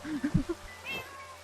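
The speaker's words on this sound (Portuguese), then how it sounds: "Y cuando te pegan hacen como gatos" A Minecraft player wearing a cat skin gets hit and lets out a quick string of short, cat-like meows, followed by a softer, drawn-out tone. The meows are clear and close, with no talking over them.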